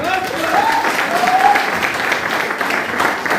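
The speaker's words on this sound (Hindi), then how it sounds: "जोरदार ताली होनी चाहिए" A seminar audience at a network marketing talk claps continuously, a dense steady wash of applause, with a voice or cheer rising briefly at the start.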